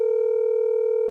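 A steady electronic phone tone sounds continuously during an online council meeting, loud and close with no talking over it.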